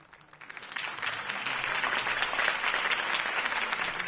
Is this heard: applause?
yes